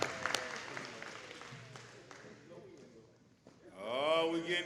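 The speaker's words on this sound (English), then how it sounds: "Let's give them a round of applause." Clapping from a crowd at a men's breakfast event fades out over the first few seconds, followed by a quieter pause and then a voice speaking loudly near the end.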